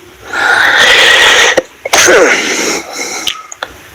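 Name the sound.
cough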